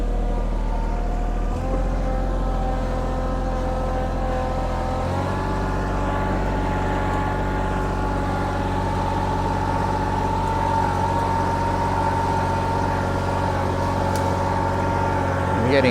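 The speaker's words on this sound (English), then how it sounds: "You can hear by the motor. It's starting to feel the load and the lack of grip." A small motorised load carrier climbs a steep garden hill toward the compost heap, its motor droning steadily and shifting pitch as it strains under the load with poor grip, with a voice talking over it.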